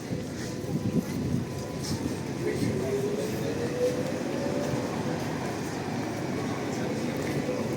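A tram pulls away along Serbska Street in Lviv: a steady, broad rolling rumble with a motor whine that rises as it gathers speed, set in continuous city street noise.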